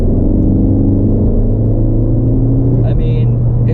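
A 2015 Ford Focus ST engine hums steadily in fourth gear around 2,500 RPM, a loud, even low drone inside the cabin with a brief higher whine near the end.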